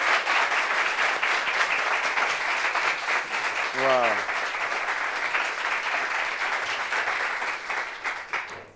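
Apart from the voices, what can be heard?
audience applause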